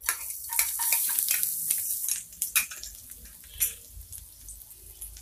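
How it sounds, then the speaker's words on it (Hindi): Garlic sizzles in hot oil in a kadhai for veg chowmein, with a steady crackling hiss and light stirring clinks and taps, close and moderately loud, without talk. "इसमें हम लहसुन ऐड कर देंगे।"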